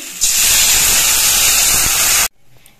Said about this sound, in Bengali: এবার এর মধ্যে ঝোল দিয়ে দিচ্ছি।